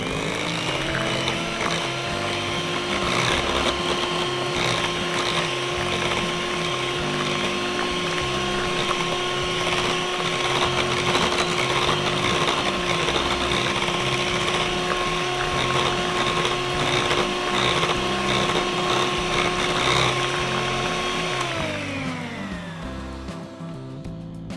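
An electric mixer beats Basque burnt cheesecake batter with cream, its motor whining at a steady, loud pitch for over twenty seconds before slowing and winding down near the end.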